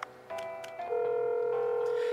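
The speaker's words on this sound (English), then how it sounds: "let's make a quick phone call" A phone is dialed in the diving game Dave the Diver: a few quick tone beeps followed by a steady, sustained ringing tone, clear and close with no talk.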